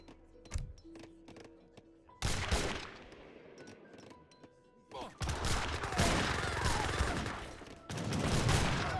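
Gunfire in Age of Empires 3 as musket-armed units fire on villagers, with scattered sharp shots early, then louder dense volleys of overlapping reports crackling through a busy battle din.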